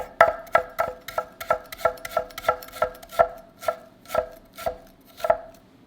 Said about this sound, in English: I'm just gonna chop these Brussels sprouts really thin